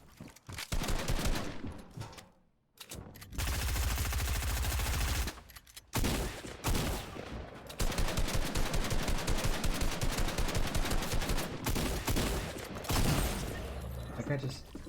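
Rapid gunfire from the battle royale game Fortnite, fired in long sustained automatic bursts broken by brief pauses, loud and close, with a player talking over the shooting.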